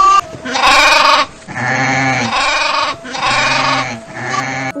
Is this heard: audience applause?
no